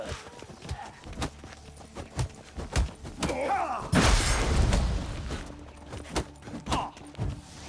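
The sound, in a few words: horse hooves in the video game The Witcher 3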